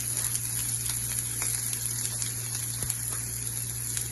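Onion and green chili fry in hot coconut oil as a steady, dense sizzle with a constant low hum underneath and faint scattered pops throughout, no talking.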